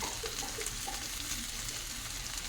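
Ivy gourd (dondakaya) slices fry in a pan with turmeric, salt and masala powder, giving a steady, soft sizzle that continues throughout with no talk over it.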